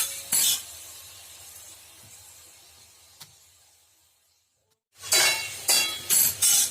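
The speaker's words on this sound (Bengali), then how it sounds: "এটি বেশ কিছুক্ষণ ধরে ভাজা ভাজা হতে থাকবে যতক্ষণ না ঝিঙে আলুর জলটা মরে যাবে এটা কড়াতে ভাজা ভাজা হতে দিতে হবে" Ridge gourd and potato fry in a wok, with a burst of clinking stirring at the start, then a quieter low sizzle that fades to near silence before loud, rhythmic scraping and clattering stirs return.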